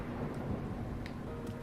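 Rain and rumbling thunder from a storm in The Legend of Zelda: Breath of the Wild make a steady, low, dense wash, faint and continuous through a brief stretch.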